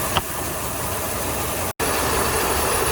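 A 1981 Pontiac 305 V8 with a stalling and flooding problem idles with a steady low rumble close by, broken by a brief cut-out dropout near the middle before the idle resumes.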